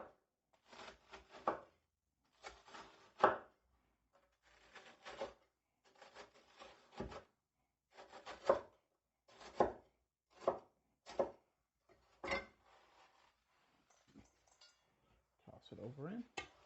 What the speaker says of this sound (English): So to give my bread a rough chop, because I didn't have any stale wheat bread